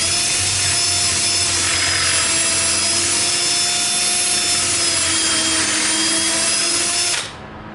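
A power drill bores holes into a sink base cabinet during assembly, a steady high-pitched whining drone lasting several seconds at close range before cutting off near the end, with no talking.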